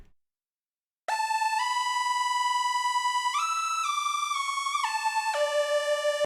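After a second of silence, a bright synthesizer lead plays a steady held melody with clean note changes and no pitch bend, several sustained notes stepping up and down at even loudness.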